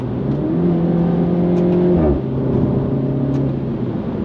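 A Mini Cooper S F56 with a six-speed automatic accelerates in paddle-shift mode, its engine note droning steadily and dropping sharply at one quick upshift midway before climbing again, loud and close from inside the cabin.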